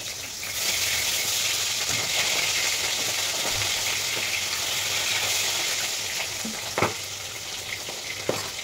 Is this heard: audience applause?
no